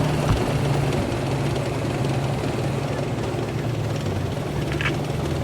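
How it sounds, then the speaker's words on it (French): A Panzer tank engine in an armored battle video game rumbles with a low, steady droning hum that persists throughout, moderately loud, with faint background game noise. "Moteur Panzer, ça."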